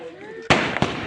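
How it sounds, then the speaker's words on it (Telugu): Firecrackers bursting at a swearing-in ceremony celebration in Paderu: two sharp, loud blasts about a third of a second apart, each with a crackling tail, after a short stretch of voice. "ఇప్పుడు బాంబులు పెట్టావు నాకు భయం"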